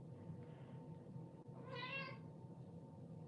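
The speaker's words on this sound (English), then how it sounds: "Oh, great, my cat's awake." A house cat lets out a single drawn-out meow indoors, close and clear, over a steady low background hum with no talking.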